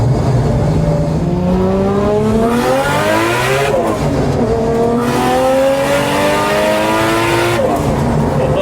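A 1989 Nissan Silvia S13 drift car with a stock RB25 engine accelerates hard, its loud engine note climbing steadily through the gears with short dips at each shift, close and continuous throughout.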